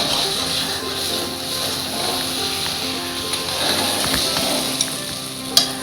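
Roasted eggplant mash frying in ghee in a pan over high flame, a steady close sizzle running throughout with faint stirring scrapes and a sharper clink near the end.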